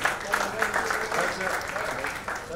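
Audience applause at Asha Bhosle's press conference in Dubai, a steady patter of many hands clapping at moderate volume throughout, with a voice briefly heard beneath it.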